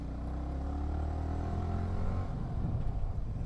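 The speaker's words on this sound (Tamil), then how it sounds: "சாரி இது ஹைவேஸ் கிடையாது, இன்ஜின் தட்டுது" A vehicle's engine knocks as it crosses a speed breaker on a local road, heard as a close, continuous low rumble that roughens slightly toward the end.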